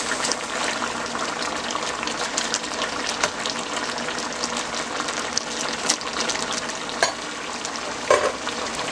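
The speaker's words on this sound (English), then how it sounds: "I'm going to give that a good stir" Steady scraping and stirring in a pot of boiling meat with bitter ball garden eggs and green plantain, over a constant sizzling, bubbling background, close up, with occasional clinks of the utensil and no voices.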